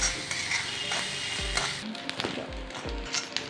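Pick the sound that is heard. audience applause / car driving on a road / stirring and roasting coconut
stirring and roasting coconut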